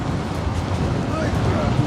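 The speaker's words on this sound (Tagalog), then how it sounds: "Ay, lakas ng hangin." Strong wind roars and buffets the microphone outdoors in falling snow in Canada, a constant low rumble with no break.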